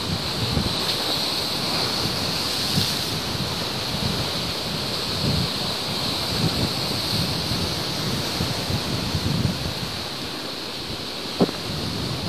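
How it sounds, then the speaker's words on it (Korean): Ocean waves break steadily on the rocky shore of Gapado near Jeju Island, a continuous rolling wash and surge with wind buffeting the microphone throughout and no voices. "아직까지는 수위가 낮아서 파도가 그렇게 높지 않은데"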